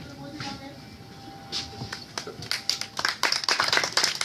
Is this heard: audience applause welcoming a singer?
yes